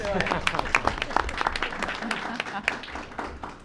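Applause at a school board of education meeting: scattered, fairly close claps from a small group, with someone speaking over them.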